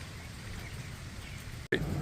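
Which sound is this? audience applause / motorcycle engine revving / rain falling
rain falling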